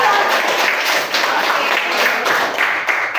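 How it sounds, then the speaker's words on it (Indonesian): A class of students breaks into steady applause for a classmate, with dense, continuous clapping close by and no gaps. "tepuk tangan buat Syakira"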